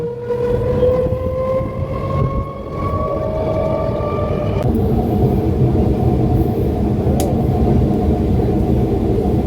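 A local train in West Bengal rolls along steadily, its continuous loud rumble and rattle filling the whole stretch, with a faint whine sliding upward early on before fading.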